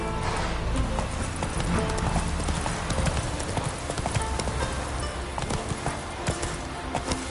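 A horse gallops in The Witcher 3 video game, its hooves sounding as rapid, rhythmic clip-clops at close range throughout.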